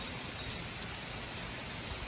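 Heavy rain in a powerful storm with gusty wind, a dense, continuous roar of downpour, steady and loud throughout, with no voices.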